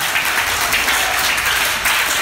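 A church congregation applauds and cheers together in a dense, loud, continuous wash of clapping that fills the whole moment without pause.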